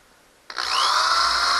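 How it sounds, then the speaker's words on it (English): A power drill spins up abruptly and keeps whining at a steady high pitch while boring a hole during a DIY smoke test for an EVAP leak on a Nissan Pathfinder. "I'm gonna drill another hole over here on this side."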